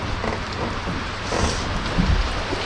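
Rain pours steadily onto a fishing raft on the water, a dense, continuous hiss with scattered heavier drops, loud and close, with no voices.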